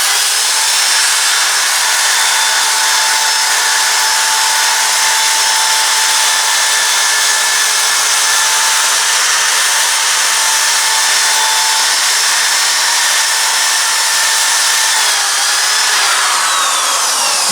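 Sandpaper of 80 grit rubbing against a spinning natural-edge wooden bowl, turned from a limb, on a lathe, giving a loud, steady hiss with a faint motor whine that holds unbroken throughout, no voices.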